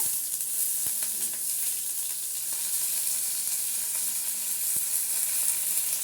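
Chopped onion sizzles steadily in a hot pan for upma, a continuous bright hiss close up with occasional faint clicks and taps of a utensil, no voices.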